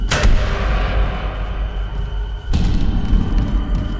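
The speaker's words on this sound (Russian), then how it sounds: "Звуки очень огромного существа." A huge creature pounding in the Dead Space video game, two heavy booming impacts with rumbling, reverberant tails over a dark low drone.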